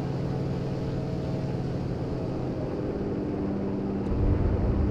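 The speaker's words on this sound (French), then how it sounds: "Ça, c'est un avion ennemi." An enemy aircraft in the World War II shooter Enlisted drones steadily for several seconds, a continuous loud engine rumble with faint tonal hum, growing a little heavier near the end, with no speech.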